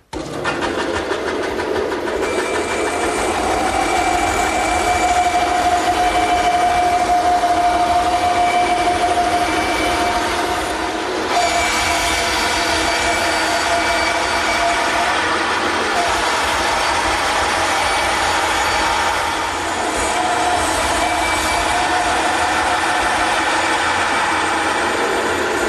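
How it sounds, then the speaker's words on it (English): Bandsaw running steadily while a circular wooden patio table top is slowly rotated through it on a circle-cutting jig, a loud continuous machine whine and rasp holding for the whole stretch with no talk. "Now, turn the bandsaw on and just slowly rotate it around."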